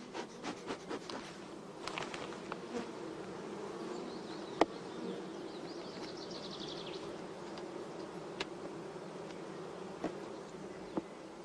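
A honey bee colony buzzing steadily at close range, a continuous soft drone with a few brief higher passes of individual bees and occasional light taps.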